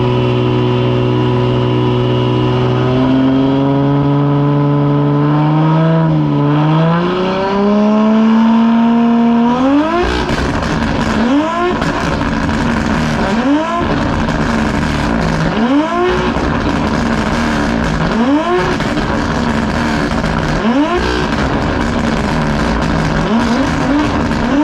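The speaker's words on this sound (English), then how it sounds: "that's how you fire up a 1000 plus horsepower car" A 1000-plus horsepower drift car engine idles loudly at close range, then climbs in pitch before breaking into a string of sharp, repeated revs that rise and fall in rapid succession.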